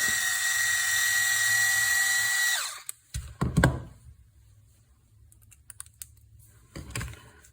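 Power driver driving screws into a Traxxas 4-Tec differential: a brief high whir that winds down, then a few short clicks and clatters of the tool and parts, close and fairly quiet.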